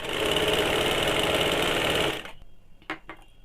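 A sewing machine runs a continuous seam on a kaftan nightie, loud and steady for about two seconds before stopping abruptly, followed by a few small clicks and taps.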